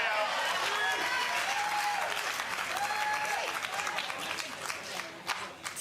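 Spectators at a professional pickleball doubles match in Newport Beach applaud steadily, a broad patter of clapping that thins near the end while a commentator talks over it.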